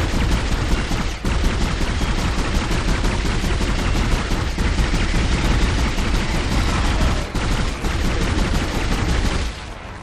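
Rapid sustained gunfire from a weapon in the Dead Space video game, a dense continuous burst of shots filling the whole stretch at close range with no talk over it.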